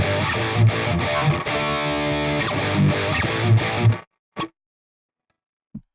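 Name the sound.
distorted electric guitar power chords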